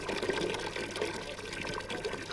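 Buckets filling with water from municipal taps in a town, a steady low splashing and trickling wash running throughout under a murmur of background voices.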